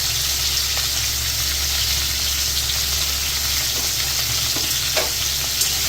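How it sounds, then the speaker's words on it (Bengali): Ridge gourd and potato with coriander, cumin and salt being stirred and fried in a pan: a steady close sizzle and crackle with scraping stir noises running throughout, no voices. "ঝিঙে আলুর সঙ্গে মশলাগুলো ভালো করে নেড়ে ভালো করে কষবো"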